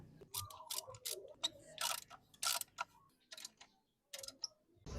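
A ratchet tightens the exhaust pipe bolts on a motorcycle fitted with an aftermarket Mokoto pipe, giving close, irregular bursts of sharp clicking with short pauses between strokes.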